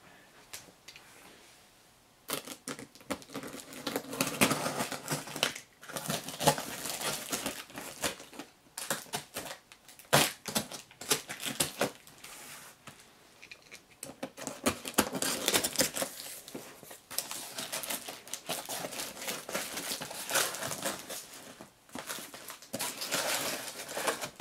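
Foam packing rustles and squeaks around a Taito Type X2 arcade system as it is unboxed, a steady close stream of crinkly scraping and rubbing with short pauses and louder bursts, no talking.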